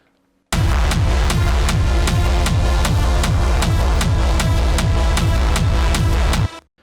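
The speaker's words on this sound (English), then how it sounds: "I already made this kind of reese bass with my preset pack" Buzzing, detuned reese bass synth pulses in a steady fast rhythm beneath a hard techno melody, loud and dense, starting abruptly and cutting off near the end.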